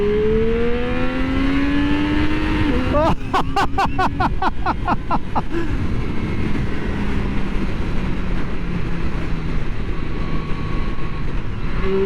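A 2024 Triumph Street Triple 765 RS naked sportsbike accelerates hard, its engine note climbing steadily in pitch, then briefly cutting and clattering at a gear change before pulling on with a fading, rising drone. Loud and close throughout, with no talk.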